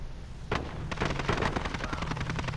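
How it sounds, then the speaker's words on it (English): Gunfire in Call of Duty Warzone, a rapid burst of repeated shots starting abruptly and continuing steadily, somewhat distant and soft with no talking over it. "I think I heard the shooting from over here"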